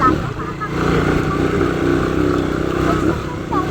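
Motorcycle engine running steadily while riding along a countryside trip to a farm, loud and continuous throughout, with people talking over it.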